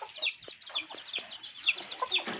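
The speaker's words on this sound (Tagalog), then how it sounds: "Oh, good morning tandang." Chickens on a farm, with a rooster among them, cluck in quick, overlapping bursts nearby against a quiet background, without any talk.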